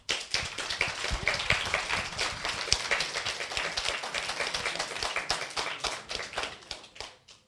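Audience at a televised electoral debate claps in a steady burst of applause that fills the room, fading out at the end; no one speaks over it.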